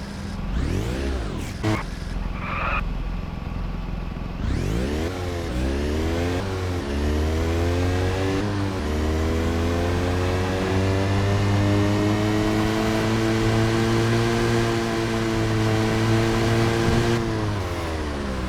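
A moped engine in the video game Just Cause 2 drones close by, revving up with rising pitch and then holding a steady hum, with no speech over it.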